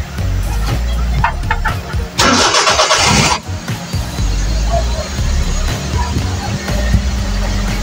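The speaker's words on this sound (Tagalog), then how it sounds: "Andarin natin makina" A Suzuki DA65 Multicab engine cranks with a loud burst of starter noise, then catches and settles into a steady close idle.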